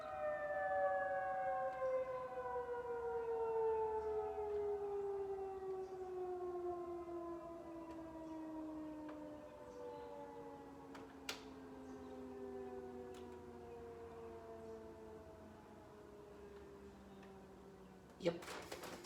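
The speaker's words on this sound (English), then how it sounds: "Yep, that is the tornado siren." A tornado siren sounds during its monthly test, a long wailing tone that slowly falls in pitch and fades over many seconds, heard from a distance with faint ticks and a sharp click near the end.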